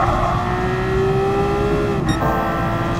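Porsche 911 GT3 RS racing engine in Gran Turismo Sport on a Japanese circuit, a loud, continuous high-revving drone holding a steady pitch, then a brief shift around two seconds before the sustained roar resumes.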